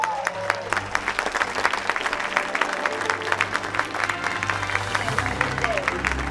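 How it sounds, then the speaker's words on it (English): Sustained audience applause at a red carpet gala screening of Aladdin in Amman, Jordan, dense steady clapping with scattered crowd noise and a low rumble underneath throughout. "please give them the warmest round of applause"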